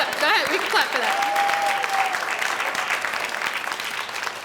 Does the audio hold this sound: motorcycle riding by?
no